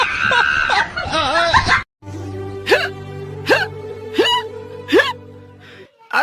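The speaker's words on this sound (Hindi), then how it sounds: "बहुत तेज हिचकी आ रही है।" Four loud, sharp hiccups come at roughly even intervals during an Indian stage comedy show, over a low steady musical drone, after a few seconds of a voice making laughing, whimpering sounds.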